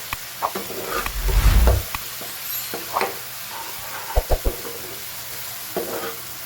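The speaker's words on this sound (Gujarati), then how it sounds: "સેજ લસણની કટકી કરી છે એડ કરી લઈએ." Chopped garlic sizzling in a hot pan while cooking pav bhaji, with a brief low rumble and stirring clatter early on, then scattered clicks and scrapes over a steady light frying hiss.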